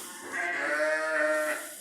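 Sheep bleating inside a barn where newborn lambs are kept, one sustained, wavering bleat, close and clear, alone without talk.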